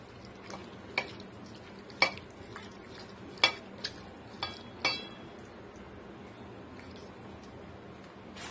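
Chicken liver mixed with masala powder in a bowl, with a faint scraping stir broken by several sharp metallic clinks of a spoon against the dish, close and fairly quiet with no voices.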